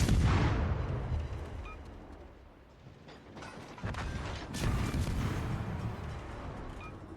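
Naval guns of the destroyer Tashkent '39 firing in the World of Warships: Legends game: heavy booming salvos at the start and again around the middle, each followed by a rumbling tail and mechanical clatter.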